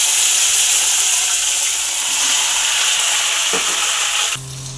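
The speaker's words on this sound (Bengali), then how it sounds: "এবার আমি ঢ্যাঁড়সগুলো ভালো করে ভেজে নেব" Okra fries in hot oil with a loud, close, continuous hiss and crackle, stirring noises scattered through it, before the sizzle cuts off at the end to quieter background sounds.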